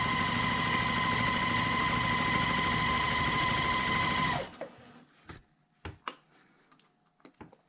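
A sewing machine runs steadily for about four seconds while back stitching through fabric, a loud continuous whirring hum. It then stops abruptly and a few quiet clicks and handling noises follow.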